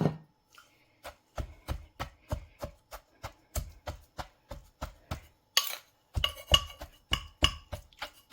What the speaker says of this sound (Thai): โขกปลาทูกับ ขาให้เข้ากัน